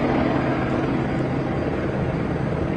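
News helicopter banking overhead during a police encounter, a steady broadband rotor and engine roar that holds constant and fairly loud throughout with no talking.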